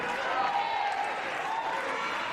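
Wrestling crowd at a live pro show roaring steadily throughout, a broad dense wash of cheers and scattered applause, loud and continuous as a wrestler climbs the top rope.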